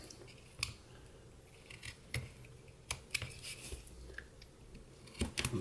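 Pocket knife shaving and tapering a piece of walnut wood, heard as scattered dry scraping cuts and soft clicks with irregular pauses, close and fairly quiet.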